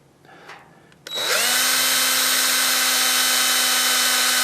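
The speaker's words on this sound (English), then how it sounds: "The brass is fairly thin, so the hole will drill quickly." Tiny number 65 micro drill bit held in a collet chuck spins up and bores a hole through thin brass, a loud steady high-pitched whine starting abruptly after a second of quiet and holding constant.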